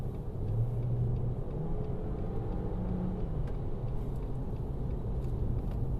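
A 2022 Jeep Renegade's 1.3-litre turbo engine gives a steady low rumble throughout, with a faint hum rising slightly at times, idling or cruising at low revs.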